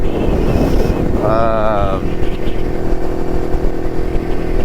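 A vintage Jawa 250cc two-stroke motorcycle engine drones steadily throughout, with a brief rising whine in the middle and wind buffeting the microphone while riding.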